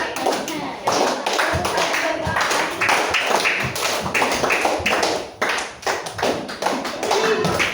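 Children clap together in counted rhythmic patterns, short groups of sharp claps separated by brief pauses, led by an adult voice calling the pattern and talking between rounds.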